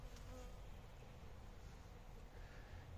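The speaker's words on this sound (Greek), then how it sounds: "Οι μέλισσες κουβαλάνε." Bees buzzing among blooming flowers on an unusually hot winter day, a dense, steady hum of many insects close by, continuous and fairly faint.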